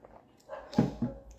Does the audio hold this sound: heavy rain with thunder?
no